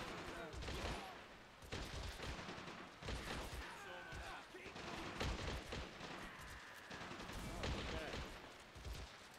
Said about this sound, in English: A heavy machine gun on the road.